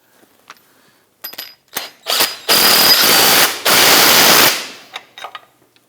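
A power tool tightens a cross member bolt on a 2006-2010 Hummer H3 3.7 L5 during a differential mounting bushing replacement, giving a few short clicks and then two loud sustained rattling bursts, close up.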